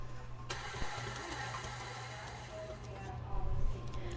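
A mixer runs at higher speed, creaming butter and brown sugar for a butter pecan pound cake, giving a steady, close motor whir with a low hum that holds throughout.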